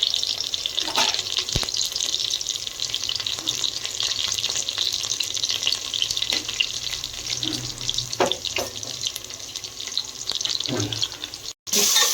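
Ground spice paste frying in oil in a pan for a Karnataka dish, giving a steady hiss and sizzle throughout with a few light clinks and stirring noises.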